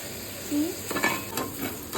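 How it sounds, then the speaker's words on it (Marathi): Onions frying in a pan for a Maharashtrian-style spicy prawn fry make a continuous close sizzle, broken by a few soft stirring scrapes. "आणि कांदा कितपत शिजवून घ्यायचा? बदामी रंगाचा झाला."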